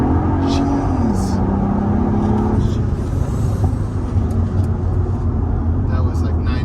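A Mercedes SL65 pulling hard under full throttle, a deep engine drone rising in pitch then dropping at a gear change, steady and loud from inside the car.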